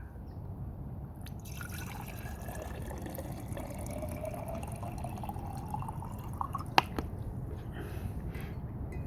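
Water slowly trickling and dripping from the drain valve of a water heater tank being flushed, a faint steady wash with a single sharper drip near the end.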